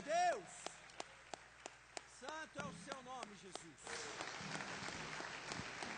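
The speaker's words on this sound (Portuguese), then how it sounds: "Você pode aplaudir." During a church service, sparse, scattered claps ring out in the congregation amid voices and shouts, then build into a fuller burst of applause in the second half.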